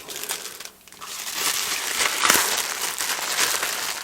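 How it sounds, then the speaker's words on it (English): A wrapped item being unwrapped up close, its paper crinkling and crumpling steadily for several seconds with loud rustles and a sharper tear near the middle. "Now, I've got this to unwrap."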